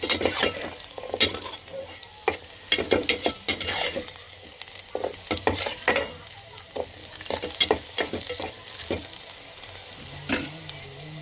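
Food fries in ghee in a pan with a soft steady sizzle, broken by frequent sharp scrapes and clinks of a spoon stirring against the metal. The sound is close and fairly quiet, and no one speaks.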